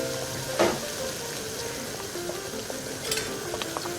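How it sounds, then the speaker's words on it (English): Water boils steadily in a pot with a crab boil spice bag dropped in for cooking lobster, a soft bubbling hiss with a few louder splashes and clinks above it. "Now I'm going to let that boil for a little while to let some of those flavors come out of those spices"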